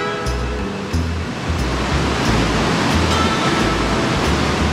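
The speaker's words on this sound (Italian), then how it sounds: "E siamo qua alla Sumwata Falls." Sunwapta Falls in the Canadian Rockies thunders with a loud, continuous broadband roar of rushing water pouring against a vertical rock wall, heard up close with a low rumbling undertone.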